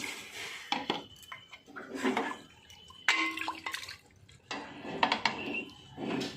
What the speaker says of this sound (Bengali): এবার চিকেনটাকে আমি কুকারে দিয়ে দিলাম দিয়ে একটু জল দিয়ে দিলাম